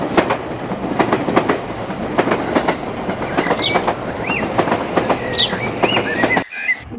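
The Mitali Express runs from Dhaka toward New Jalpaiguri, its carriages rumbling steadily with a rhythmic clickety-clack of wheels over rail joints, loud and close, with brief squeals before the sound cuts off near the end.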